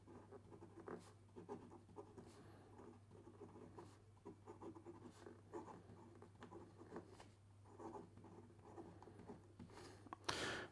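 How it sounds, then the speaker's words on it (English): A fine-nib fountain pen writes on paper with Sailor ink, a quiet, steady scratching of short strokes and pauses over a faint constant hum, no voice. "And here we go with the rest of the writing sample."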